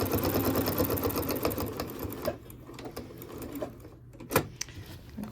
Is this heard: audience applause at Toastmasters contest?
no